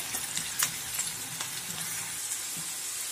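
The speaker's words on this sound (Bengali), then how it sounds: "এবার এগুলোকে একটু ভালোভাবে ভেজে নেব।" Chopped garlic and onion fry in a pan for a gourd-stem vegetable curry, giving a steady soft sizzle with occasional stirring scrapes and crackles, close and without talk.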